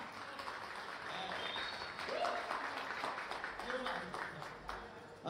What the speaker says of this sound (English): a round of applause going on there in the background